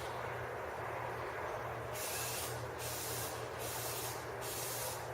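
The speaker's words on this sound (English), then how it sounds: "So I'm going to start way over here, I'm going to start spraying this way" Aerosol can of clear coat spraying onto a car headlight during restoration: three or four short hissing bursts in a row, close and steady, over a low constant hum with no talking.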